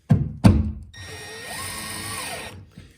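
Two quick clunks sound up close, then a cordless drill-driver whirs for about a second and a half, tightening a screw on an old-work electrical box tab against drywall, with no talking.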